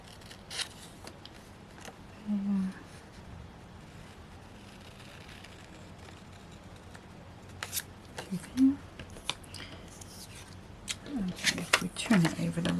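Scissors or a trimmer cutting card for a wildlife craft kit make several short snips and rustles, sparse at first and busier toward the end, while someone talks quietly throughout.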